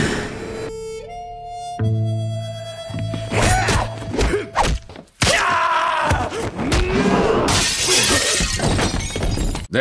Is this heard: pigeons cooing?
no